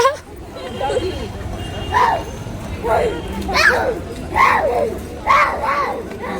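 A voice mimics a dog's bark in a string of about six evenly spaced yapping woofs, loud and close, with household chatter around it.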